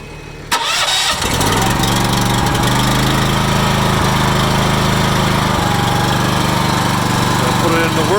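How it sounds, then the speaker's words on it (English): The small engine on a Faymonville Megamax trailer's hydraulic power unit cranks and catches, then settles into a loud, steady running drone close by, with no talking. "I gotta start the engine"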